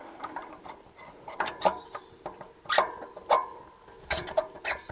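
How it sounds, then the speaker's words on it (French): An axle slides through an electric bike wheel on a Lankeleisi MG600 Plus, making a series of close metallic clicks and scrapes in uneven bursts. "On passe l'axe au travers de la roue."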